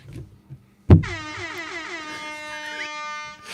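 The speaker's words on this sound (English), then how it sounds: "air horn, dude." An air horn sound effect set off from a button blares loud and sustained for about two and a half seconds after a sharp thump, with a studio talk show setting around it.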